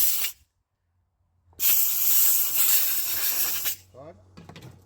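Compressed air blasting through a bicycle wheel hub during servicing of an Elitewheels Helix 46D wheelset: a short burst, a pause, then a loud sustained hiss of about two seconds, with faint clicks afterward.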